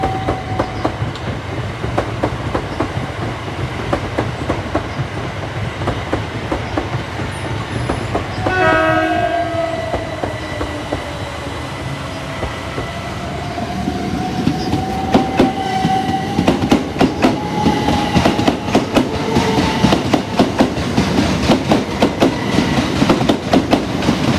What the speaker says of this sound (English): As the service is coming in behind me, bound for Ramsgate and Canterbury West for 375 710 leading.